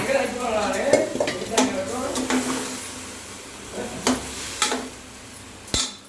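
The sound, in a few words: rice and moong dal being added and stirred in a pot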